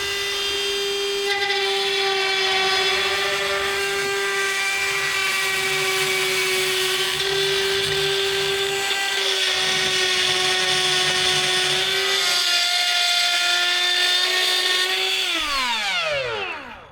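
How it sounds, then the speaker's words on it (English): A die grinder cuts mouse holes in metal, a steady high-pitched whine with strong harmonics that holds for about fifteen seconds, then winds down as the tool is released and spins to a stop. "Quite honestly, the die grinder made light work of that."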